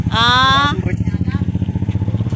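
Motorcycle with a tricab sidecar, heavily loaded, braking: a loud squealing tone in the first half-second over a steady, pulsing engine rumble that keeps running close by afterward.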